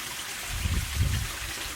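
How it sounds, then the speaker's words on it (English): An outdoor water stream trickles faintly while low gusts of wind buffet the microphone in two brief swells. "that water noise in the background right there and all the wind noise that's happening right now"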